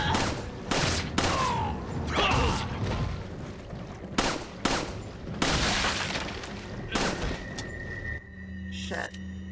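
Shotgun blasts fired in Resident Evil 4 on the Wii, several loud, sharp booms spaced a second or so apart, close and punchy, with game clatter between them and a player talking over the shots.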